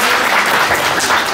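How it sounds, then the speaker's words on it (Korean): An audience at a creator workshop gives a short burst of dense, loud, close applause that continues without a break. "오늘 도로시님한테도 박수 한번"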